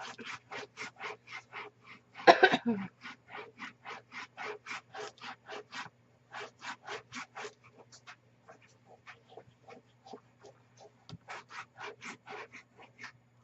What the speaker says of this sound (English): I'm just going to flip it over and burnish it